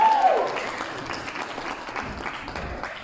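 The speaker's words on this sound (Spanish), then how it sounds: "Un aplauso." An event audience breaks into applause after guests are introduced, a loud burst of many hands clapping that settles into a steadier, slightly quieter patter, with a brief voice at the opening.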